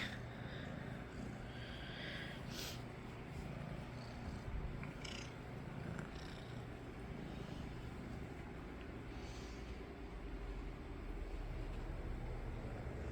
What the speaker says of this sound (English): Hear him purring like a crazy.